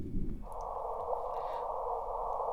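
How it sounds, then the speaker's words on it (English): Sonified recording of two black holes colliding: a brief low rumble gives way to a steady, sustained mid-pitched tone that hums on alone, fairly faint and unbroken. "So that is the sound of two black holes colliding."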